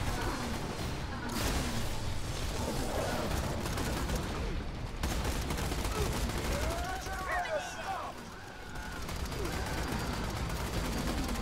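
Slag weapon gunfire in Borderlands 2 during a combat fight: dense, continuous shooting and impacts forming a loud, unbroken roar, with a voice mixed underneath.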